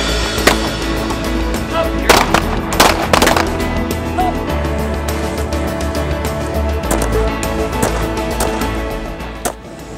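At a shooting range, a few sharp pistol reports crack out at irregular moments over a steady background hum, with the loudest shots clustered early and one more near the end.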